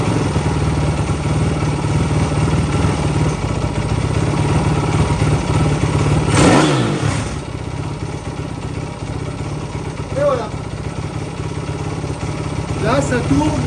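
An XDURO 160 motorcycle engine with a freshly adjusted carburettor needle idles steadily and close, with one brief throttle blip midway before settling back to an even idle, as someone talks over it.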